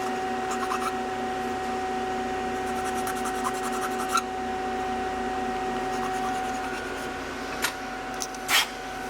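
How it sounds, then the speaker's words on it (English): A file broaches the round cork notch of a wooden duck call square in a call-making shop, rhythmic rasping strokes in bursts, close, over a steady machine hum with a few sharp knocks. "basically we're just going to broach it with a file"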